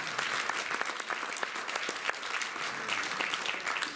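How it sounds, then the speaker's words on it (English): An audience at a stage magic competition applauds in a dense, steady burst of clapping that carries on without a pause, with a faint murmur of voices underneath. "return to your seat to a resounding round of applause"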